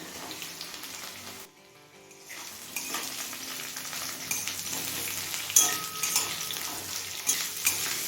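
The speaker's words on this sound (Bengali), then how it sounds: "রসুন কাঁচা লঙ্কাটা লো ফ্লেমে মিনিট দুয়েক ভেজে নিয়েছি এবার দিচ্ছি কুচনো দুটো বড় সাইজের পেঁয়াজ" Two large chopped onions going into oil with garlic and green chili over low flame, the sizzle dropping away briefly and then returning stronger, with stirring clinks of a utensil against the pan.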